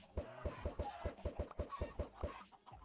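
Minecraft chickens clucking in a quick, evenly spaced run of about twelve short, close clucks over roughly three seconds, with no talk over them.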